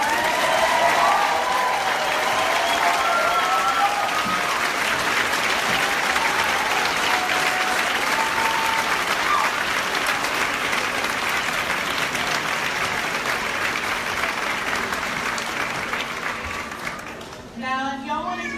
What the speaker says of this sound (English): applause for that amazing performance.